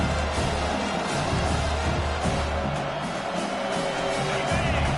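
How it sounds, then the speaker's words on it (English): Steady roar of a stadium crowd at a USC vs Washington college football game, dense and continuous throughout with no distinct cheers standing out. "This crowd trying to make life miserable for this offense."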